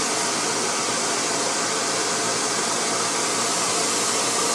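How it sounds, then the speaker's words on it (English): An 1875-watt professional hair blow dryer runs steadily at close range, a loud, even broadband whoosh of air with no pauses, heard alone. "This blow dryer also has an 1875 watt professional motor in it."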